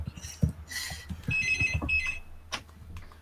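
A telephone rings indoors in a few short electronic bursts, moderately loud, amid rustling and background room noise.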